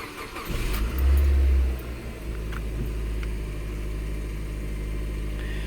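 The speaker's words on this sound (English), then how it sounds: "So we're going to start it up from dead cold and watch how this all reacts." A car engine started from dead cold catches with a loud low surge, then settles into a steady, even idle with faint ticking over the top.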